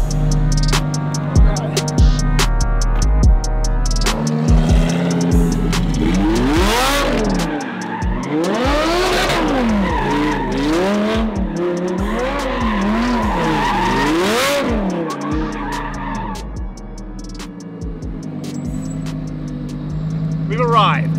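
An 1100hp twin turbo Ford GTX1 does donuts, its engine revving up and down in loud, near sweeping waves while the tires skid and squeal continuously.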